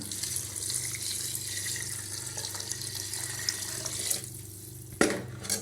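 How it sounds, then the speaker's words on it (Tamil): Water pours steadily into a pot of dal for bisi bele bath, a continuous splashing rush over a low hum, ending with a brief clatter. "நம்ம பருப்பு சேர்த்து போட்டதுனால இப்போ 5 டம்ளர் தண்ணி ஊற்றிக்கலாம்."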